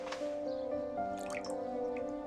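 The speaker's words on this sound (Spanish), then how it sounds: "Cogemos un poco de agua, hidratamos el barro" Water drips and trickles onto clay being moistened for modelling, with soft wet splats over a faint steady tonal hum.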